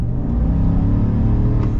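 A 2024 GMC Sierra 1500 AT4X pickup with a naturally aspirated V8 accelerates, giving a deep, steady engine rumble and low growl heard from inside the cab, loud and continuous for a moment.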